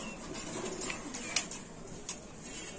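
A pigeon kept for sale coos faintly against a steady background hiss, with a few soft calls and one brief sharper note.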